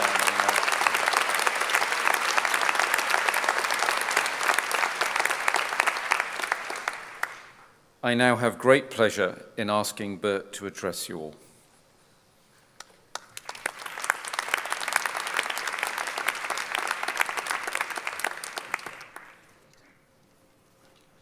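Audience applause at a University of Brighton honorary degree ceremony: a long, steady burst of clapping, then a voice introducing the next speaker, followed by a second sustained round of applause that fades out.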